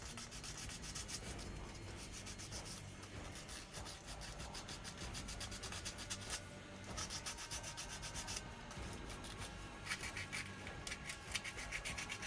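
Hand sanding with sandpaper, a steady dry scraping rub repeated in continuous back-and-forth strokes, close and fairly quiet, with no voices.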